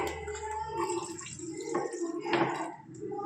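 Milk is poured into a pot for ginger tea, giving a soft liquid splash with a few light clinks of the vessel, close and quiet, while someone talks over it.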